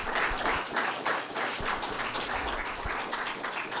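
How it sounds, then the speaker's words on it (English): Audience applause at a political ballot-initiative forum, a steady wash of clapping from a room full of people that holds fairly even throughout without fading. "let's have a warm round of applause"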